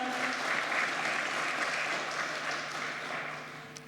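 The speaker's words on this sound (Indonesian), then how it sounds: "Boleh kita berikan aplaus Bapak Ibu sekalian?" Sustained audience applause fills the hall at a ceremony marking the 48th anniversary of the Indonesian capital market, with dense clapping that holds steady and then tapers slightly toward the end.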